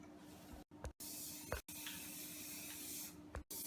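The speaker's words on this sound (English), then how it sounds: "I'm gonna spray them with some canola oil cooking spray" Canola oil cooking spray hisses from an aerosol can into cake pans in several close, steady bursts broken by short silences and light clinks of the pans.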